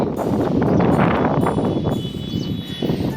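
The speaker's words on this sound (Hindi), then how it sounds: "ऐसी हवा चल रही है" Wind gusts across a bridge over the Parvati river, a loud, rumbling buffeting against the microphone that swells and eases over a few seconds.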